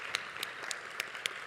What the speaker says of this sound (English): please do join me in applauding this outstanding panel